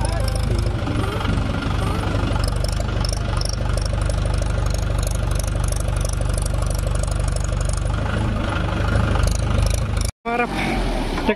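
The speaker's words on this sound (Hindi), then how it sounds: "हमारा ट्रैक्टर निकलने वाला है," A tractor engine labors hard while trying to climb out of sand, roaring loud and close with a heavy, knocking drone. Voices talk over it.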